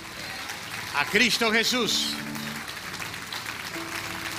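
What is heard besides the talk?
congregation applause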